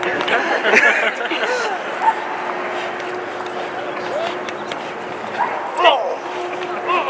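A police K-9 dog at a demonstration lets out a few sharp barks and yips amid nearby talking and handler commands, with the barks standing out intermittently.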